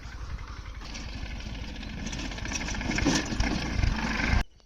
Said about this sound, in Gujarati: હવે ટ્રેક્ટર એ ફૂગી ગયું છે જો અવાજ આવે છે કડકડ કડકડ કડકડ કડકડ